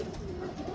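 Pigeons kept in a coop give a steady low cooing murmur, close and even, with no talking over it.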